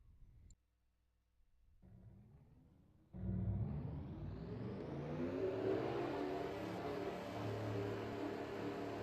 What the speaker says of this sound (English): let's get the cars rolling off at the Brickyard